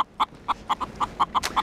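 A chicken sound effect used in an ultrasound probe demonstration, heard as a quick run of about ten sharp, evenly spaced clucks, close and loud with no talk.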